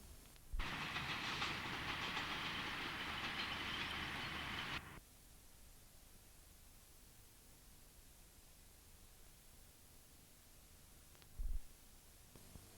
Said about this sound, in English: A Manchester Express passes the waiting Liverpool train, and then by Stalybridge Box.